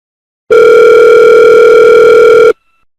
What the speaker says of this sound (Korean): 전화 좀 해봐야겠다